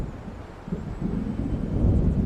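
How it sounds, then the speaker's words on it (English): Low rumbling thunder from a storm approaching over Cauldron Lake in Alan Wake Remastered rolls in and swells slightly louder, with wind-like noise beneath and no voices. "It seems there's a storm coming."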